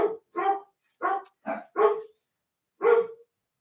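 Several dogs bark in short, loud bursts, about six barks in an irregular rhythm with brief pauses between them, close by and with no talking over them.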